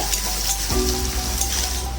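Chopped onion sizzles steadily in hot oil with dry chilli and five-spice tempering, a close, continuous fry with a brief stir partway through and no voices.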